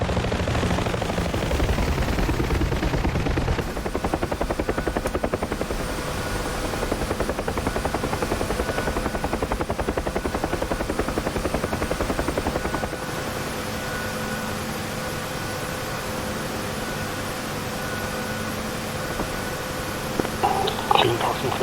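Helicopter flown at full speed in the DCS flight simulator on a logistics mission, a loud, steady rotor and turbine drone with rapid blade chop, with radio chatter and voices over it in the later part.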